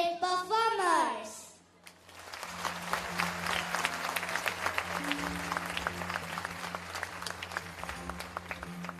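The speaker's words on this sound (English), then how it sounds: "I urge the audience to please cheer our little brave performers." An audience applauds and cheers child dancers at a school annual day celebration, a steady bright clatter of many hands with crowd noise after a brief spoken voice at the start.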